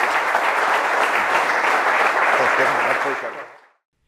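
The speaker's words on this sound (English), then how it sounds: "Round of applause for uh, Frank Ponissi." Audience applause fills a room after a leadership talk, a steady dense clatter of clapping that holds loud for about three seconds before tapering off to silence.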